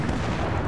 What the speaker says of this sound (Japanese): なんかめっちゃ爆発するやん。